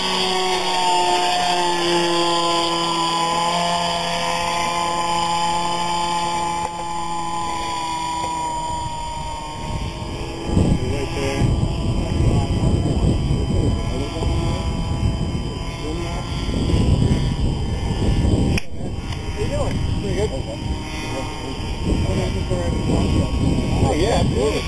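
A Big Stik RC airplane engine with an unresponsive throttle drones loudly and steadily, its pitch shifting and then holding a rough buzzing roar while voices talk over it.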